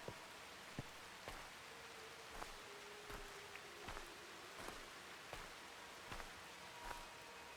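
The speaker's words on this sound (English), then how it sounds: "the rain is new, so we didn't have rain before." Rain falls in the video game Lempo, a faint, steady hiss broken by soft taps at regular intervals, with no talking.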